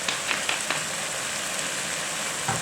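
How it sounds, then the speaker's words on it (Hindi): Pumpkin curry fries in two tablespoons of coconut oil as the kaddu salan is sautéed: a steady, close, hissing sizzle with a few small pops and clinks. "ऑयल डाल के इसको थोड़ा सा भून लेंगे"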